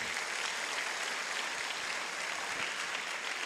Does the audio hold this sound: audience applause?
yes